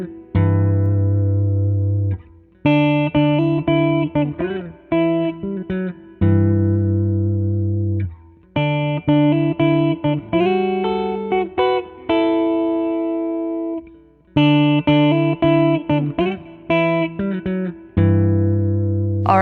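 Electric guitar played through a Portastudio-style pedal, a meticulously built circuit nodding to the original units, giving sustained chords and notes in loud, steady phrases separated by brief pauses, with no talking.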